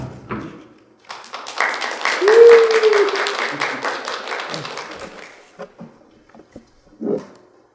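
A church congregation bursts into vigorous applause, dense clapping swelling quickly, holding for a few seconds, then thinning to scattered claps, with a voice briefly heard in the room.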